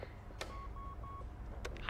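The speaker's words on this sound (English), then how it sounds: "Please leave a message after the tone." An answering machine plays a series of short electronic beeps after its outgoing message, fairly faint, followed by a click and brief rustle.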